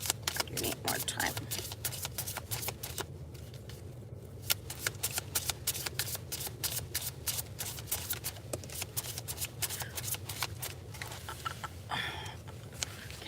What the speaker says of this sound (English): Y'all saw how much I shuffled.